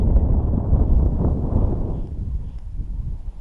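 Wind buffeting a small fishing boat on an open lake during perch fishing, a steady low rumble and roar filling the whole stretch with no pauses or other sounds.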